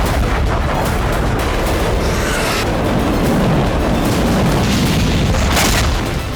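Russian KH-101 cruise missile strike explosions on a power plant in Dnipro, Ukraine: a loud, continuous booming roar with heavy low rumble and rolling blasts that sustain throughout, with no voices.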